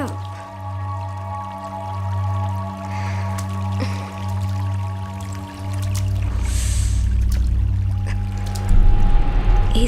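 Water suddenly pouring into a house, a steady rushing flow over a low hum that grows heavier and louder toward the end, with drips and splashes breaking through.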